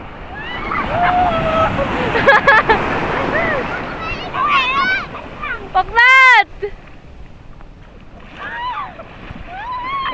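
Sea waves wash at a beach where people are swimming, with surf rumble and wind noise under loud excited voices, shouts and whistling.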